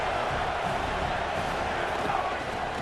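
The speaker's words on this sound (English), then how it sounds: "This Auburn crowd trying to conjure up a little magic here on 3rd down." Auburn football stadium crowd roars in a steady, broad wash of cheering and noise during a 3rd down play in the red zone.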